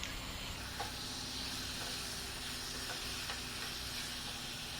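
Chicken ghee roast frying in a pan on low to medium flame gives a steady, soft sizzle and hiss throughout, with a few faint stirring scrapes and no voices.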